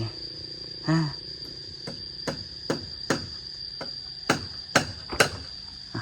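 Wood is hammered outdoors in about nine sharp, irregular strikes, some louder than others, over a constant high-pitched insect drone.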